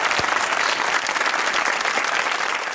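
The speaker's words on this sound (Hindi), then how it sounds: "ताली होनी चाहिए कैप्टन अली के लिए।" Audience clapping for Captain Ali: loud, close, sustained applause from a crowd, a thick even wash of hand claps with no break.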